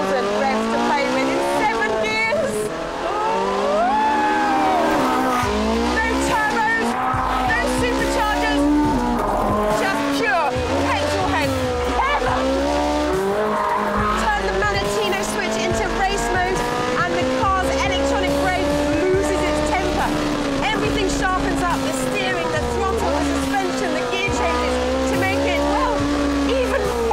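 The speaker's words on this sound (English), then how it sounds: "V8 engine is exactly the same as in the normal 458" Ferrari 458 Spider with its 9,000 rpm V8 driven hard, engine note rising and falling through gears and tyres squealing throughout, loud and close, with someone talking over it much of the time.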